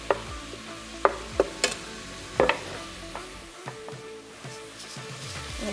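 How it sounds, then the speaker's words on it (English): Garlic, porcini and sage sizzle in a pan of softened base for risotto, with a steady frying hiss broken by sharp clicks and scrapes of stirring. "In goes my garlic,"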